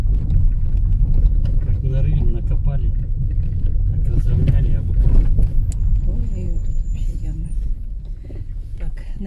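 Constant low rumble and bumping of a car driving slowly along a badly damaged road with dug-up patches and manholes, loud and close inside the cabin with people talking over it.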